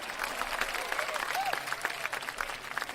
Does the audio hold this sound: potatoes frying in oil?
no